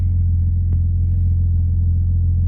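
A car engine idles steadily with a deep, even low rumble throughout, close and loud, with one brief click partway through and no talk.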